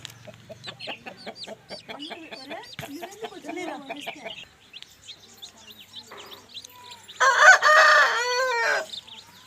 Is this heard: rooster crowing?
yes